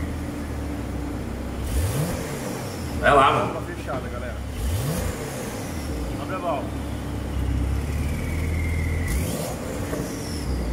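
A Porsche 911 engine revs up and down repeatedly nearby, with a rising turbo whistle between blips, while someone talks casually over it.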